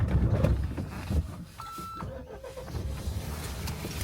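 A Mahindra Thar engine rumbles low and steady while the vehicle maneuvers on snow, with a brief electronic beep partway through.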